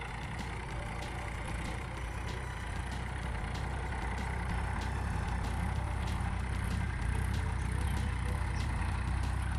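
A tractor engine idles nearby on a farm, a steady low rumble with a faint regular ticking running through it, unbroken and without talk.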